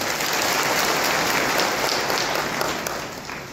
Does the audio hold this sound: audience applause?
yes